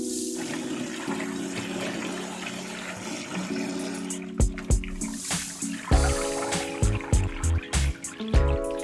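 Oysters being washed under running water, a steady trickle and splash followed by a series of irregular sloshing bursts as the shellfish are rinsed and handled close by.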